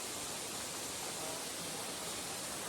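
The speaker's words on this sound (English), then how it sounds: "Nothing like the calming beauty of a waterfall, the natural spring waters," Natural spring water pours down a backyard waterfall in Dallas, Georgia, a steady, dense, hissing rush that stays even and unbroken throughout, with no voices.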